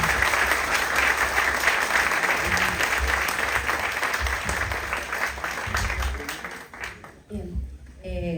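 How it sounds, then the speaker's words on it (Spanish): A crowd at a university campus event applauds steadily and loudly, the clapping fading out near the end as it gives way to a voice. "a licenciada Clara, alcaldesa de Iztapalapa, para quien pido un fuerte aplauso"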